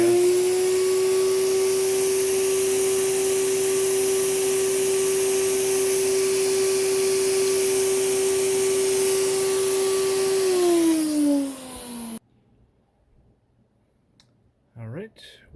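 A Hoover Celebrity Quiet Series canister vacuum cleaner runs steadily and loudly with a strong motor whine, then winds down and cuts off near the end, leaving brief faint handling sounds.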